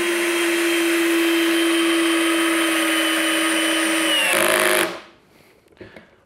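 A cheap Amazon cordless drill drives a screw into wood, giving a loud, steady motor whine with a high tonal hum for about four seconds, then a brief rise and an abrupt stop into near silence.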